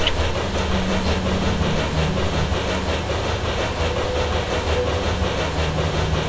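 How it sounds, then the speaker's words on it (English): A train rolling along its rails in a video game, a steady droning rumble with a faint rhythmic clatter and sustained low tones, unbroken and fairly loud throughout. "I'm on a choo-choo train!"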